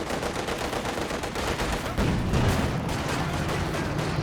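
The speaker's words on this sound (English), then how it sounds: "The double anti-tank guns as well." Anti-tank gun fire in a Company of Heroes 2 match, heard as dense, steady bursts of battle gunfire with a heavier thump partway through, loud and continuous with no talk over it.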